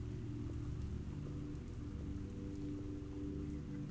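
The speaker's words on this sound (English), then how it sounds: "It's raining." Rain falls steadily in the video game The Old City: Leviathan, a dense, even patter on surfaces with no pauses, soft and close, with nothing else standing out.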